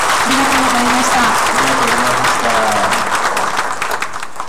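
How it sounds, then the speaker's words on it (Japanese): A Japanese community talk event in Kumano, Hiroshima, where the audience gives a big round of applause for a child; the clapping is dense and sustained, gradually thinning, with a voice speaking over it. "もう一度大きな拍手をお願いします"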